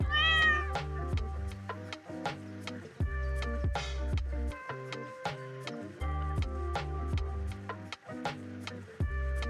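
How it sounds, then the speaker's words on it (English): A house cat meows a couple of times, a short rising cry at the start and another midway, over continuous plucked, ticking melodic music. "Don't know my cat. My cat's so sweet, man."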